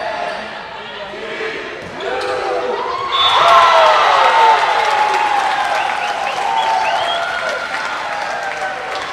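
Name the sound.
student section applauding at volleyball match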